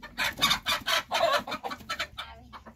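A rooster and hen cluck in a quick, busy series of short, close calls, rising and falling in bursts.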